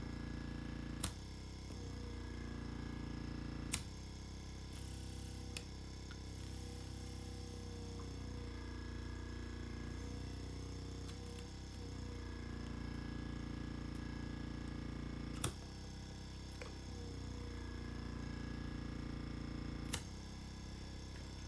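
A dermabrasion facial skin care device runs its vacuum suction as a steady, faint, even hum, broken by a few sharp clicks.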